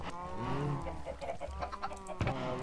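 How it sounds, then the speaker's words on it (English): Minecraft chickens cluck in a short, uneven series of tonal calls, fairly quiet, with a slightly louder cluck near the end. "There's one chicken."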